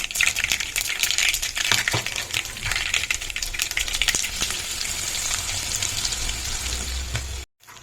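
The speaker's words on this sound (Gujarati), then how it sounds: "હવે આપણે એને વઘારી નાખીએ." Chopped bitter gourd mixed with gram flour and oil hits hot oil for tempering, giving a loud, busy sizzle with sharp crackles and spoon clinks that gradually settles before cutting off briefly near the end.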